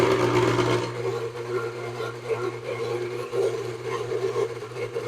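An electric mixer beats lemon loaf batter with raw sugar, a steady close motor whir with gritty rubbing texture that wavers in intensity throughout, no voices.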